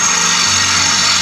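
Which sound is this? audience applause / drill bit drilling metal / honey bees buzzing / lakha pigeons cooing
drill bit drilling metal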